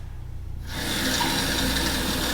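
Water pours steadily into a bag of rice for cooking, a continuous gushing splash that starts abruptly after a brief quiet moment and stays loud and close.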